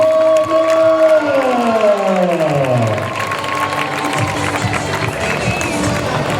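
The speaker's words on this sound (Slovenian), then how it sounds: "Evo je velik aplavz Tanja Šone!" Loud audience applause and cheering for an acrobat at an acrobatic show swells after a sliding, falling tone, then continues as a dense crowd roar with clapping.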